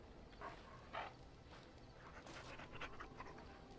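Dog panting in the Dragon Age Origins video game, quiet rhythmic breathy huffs with a few louder gasps, soft and close under low background noise.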